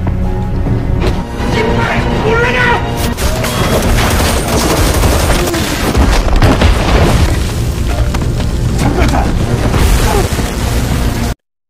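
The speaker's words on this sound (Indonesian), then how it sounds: "target meledakkan markasnya demi menghilangkan semua petunjuk dan lari menjauh" A base blown up in a film scene, heard as a sustained, loud roar of explosions and booming blasts with crashing debris running the whole length, dense and continuous rather than a single bang.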